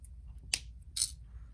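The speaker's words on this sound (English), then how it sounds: "So I'm just going to cut my chain there." Small cutters snipping a thin metal necklace chain. Two sharp close clicks about half a second apart sit over a low steady background hum, with no talking.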